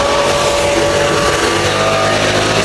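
A leaf blower runs steadily and loud throughout during landscaping work on a 30-yard mulch install, a constant engine drone with a whining tone.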